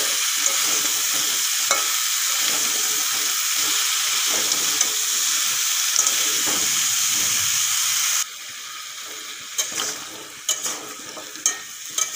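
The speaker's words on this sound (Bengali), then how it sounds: "নুন আর হলুদ ভালো করে মিশিয়ে নিলাম।" Vegetables seasoned with salt and turmeric are stirred in a hot pan, giving a steady sizzle for about eight seconds. The frying then fades to quieter scraping and clinking strokes.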